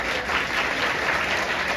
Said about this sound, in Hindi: ताली बजा सकते हैं प्रभु के लिए।